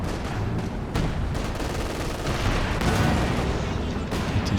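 Katyusha rocket artillery in the Company of Heroes 2 game unleashes a dense barrage, a continuous rumbling roar of rapid launches and blasts layered throughout with no speech over it.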